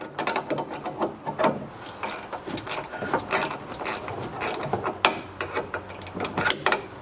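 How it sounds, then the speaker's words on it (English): A wrench ratchets back and forth, loosening a stubborn sway bar nut on a Chrysler 300, making repeated close clicking and rasping strokes in an uneven rhythm. "and the nut will come off in a little bit"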